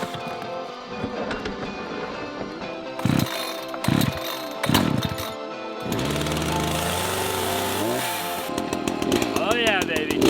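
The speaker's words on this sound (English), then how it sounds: "Wouldn't want to damage my ears from the sound of the chainsaw." A chainsaw cuts while land is cleared for a tiny house. It idles in bursts, then revs loud and steady as it bites into wood, with brief spoken remarks mixed in.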